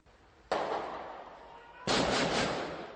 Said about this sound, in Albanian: u shkrepën breshëri plumbash nga 2 persona që ishin të pajisur me kalashnikov